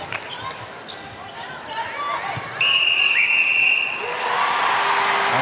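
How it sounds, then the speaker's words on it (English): At a Netball World Cup 2019 match between Northern Ireland and Sri Lanka, an umpire blows a long, piercing whistle to end the second quarter, over a crowd and commentary. "there's the whistle for the end of the second quarter"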